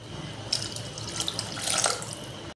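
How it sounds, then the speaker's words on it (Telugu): Water from a tap splashes steadily into a pot for cooking biryani rice, a continuous close rush with small fluctuations and no talking. "గ్లాసున్నర వాటర్ వేసుకుందాం"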